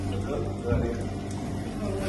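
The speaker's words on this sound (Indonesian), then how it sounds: "Lalu kita nyalakan keran debit dan ukur" Water rushes steadily from a discharge tap on an impact-of-jet apparatus in a fluid mechanics lab, a continuous close hiss with people talking over it.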